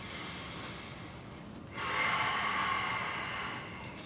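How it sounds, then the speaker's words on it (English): Deep, steady breathing during an intense power yoga high lunge, a long airy inhale or exhale that swells midway and holds, close to the ear, with no talk over it. "Right, 4 more deep breaths."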